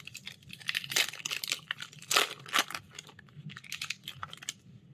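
Throne of Eldraine card booster pack being torn open, with crisp crinkling and tearing of foil wrapper in several sharp bursts, close and fairly quiet.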